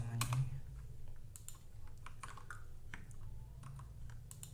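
Rapid clicking of a computer keyboard as someone types code, near and steady with brief pauses, no talk over it.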